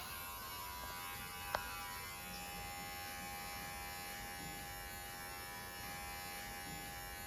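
A Hatteker professional electric hair clipper with a 1.5 millimeter guard buzzes steadily as it trims hair at the edges, a continuous close hum with one brief click early on and no speech.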